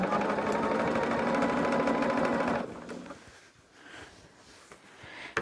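Close, steady whir of a sewing machine stitching binding onto a quilt runs for a few seconds, then stops, leaving quiet handling noises and faint rustling.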